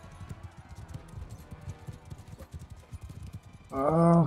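Horse hooves clop at a gallop in Mount & Blade II: Bannerlord, a quick, steady drumming rhythm at moderate distance, ending in a loud burst of voice or game sound over the top.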